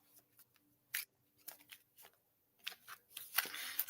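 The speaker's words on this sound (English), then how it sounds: "grab a deck of Oracle cards, and then you're going to give them a shuffle" Oracle deck being shuffled: soft card riffles and slides in scattered bursts, building to denser, louder shuffling toward the end, close and with no talk.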